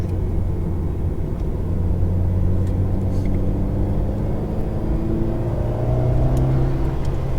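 An Alpine sports car's engine drones steadily on a racing track, a continuous low rumble that rises gradually in pitch as it accelerates, close and loud with no talk.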